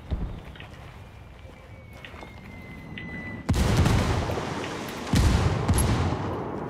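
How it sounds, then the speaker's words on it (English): Bombing strikes hitting an area in the game Sentinel: two sudden heavy blasts land a couple of seconds apart, each followed by a loud rumbling wash of debris and gunfire-like crackle. "I'm bombing that area, hold on."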